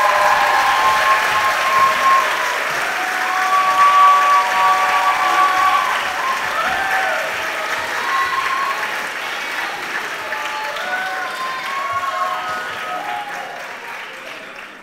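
An audience at a Yale-NUS Singers' Guild end-of-year concert applauds the Yale-NUS World Choir, sustained loud clapping that runs throughout and slowly eases, with a few faint cheers and tones mixed in.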